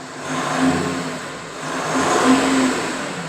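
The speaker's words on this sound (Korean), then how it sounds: "이 버튼이 배기 튜닝을 해서 배기음이 변경되는데" A 2011 Kia Mohave 4WD KV300 SUV's tuned exhaust rumbles as the engine revs up twice in slow swells, a steady throaty drone heard from inside the vehicle.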